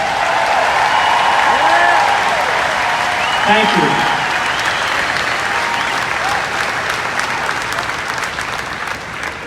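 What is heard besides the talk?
audience applause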